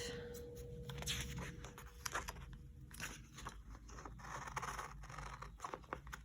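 Scissors cut a page out of an old book, giving repeated crisp snips and papery rasps in uneven bursts, close up and fairly quiet, with the rustle of paper between cuts.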